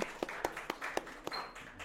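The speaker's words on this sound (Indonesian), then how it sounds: "beri tepuk tangan dong" A few sharp hand claps, roughly four per second in a steady rhythm, during a casual Indonesian podcast chat with a physical education teacher; close and fairly quiet, with no talk over them.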